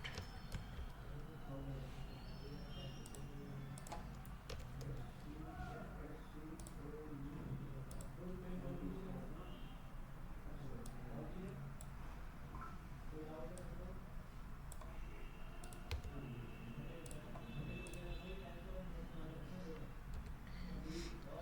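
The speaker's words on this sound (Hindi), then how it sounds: "यहाँ पे मैं टाइप करता हूँ कैपिटल अकाउंट" Computer keyboard typing while entering a capital account ledger entry, light scattered clicks running under steady nearby speech throughout.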